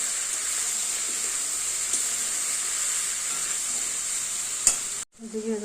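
Sliced shabla stir-fried with shrimp in a pan gives a steady, close sizzle and hiss. One sharp clink sounds near the end, followed by a brief pause and a quieter scrape.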